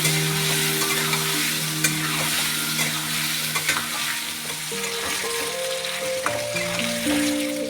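Potatoes fry in hot oil with salt and turmeric, a dense, steady sizzle close by with occasional light clicks of a spoon or pan. Faint background tones hum underneath, and no one speaks.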